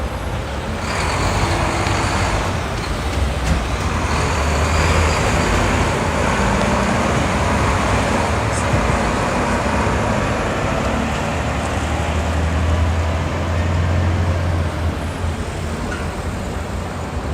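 Steady city street traffic at the Yonge and Bloor intersection in Toronto, with cars, buses and trucks passing continuously and a brief hiss of air brakes, a loud, unbroken roadway roar with no talk.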